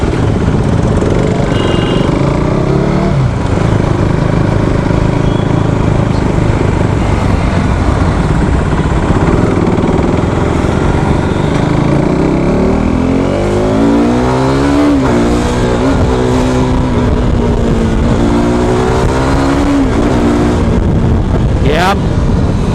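A KTM RC390 motorcycle engine idles and then revs up several times, rising and falling loudly nearby, with a person talking over parts of it.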